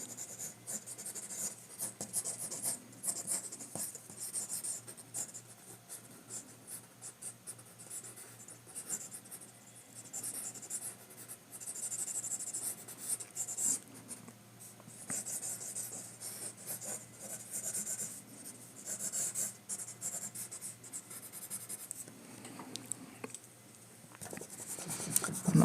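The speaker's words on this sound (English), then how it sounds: "then I can go in and start drawing in ink" Pen scratching ink onto paper while a comic artist draws a figure, a steady close rasp of short strokes and scribbles continuing for nearly half a minute with no talking.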